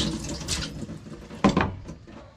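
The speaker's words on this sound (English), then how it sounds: "Wash your onion." Tap water runs and splashes while an onion is rinsed at a sink. There is a brief close rush of water with a louder splash midway, and no one speaks.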